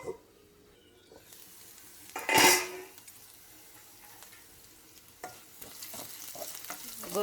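Capsicum and cluster beans frying in a pan are stirred with one loud scraping, sizzling burst, then quieter sizzling and scattered clinks close by.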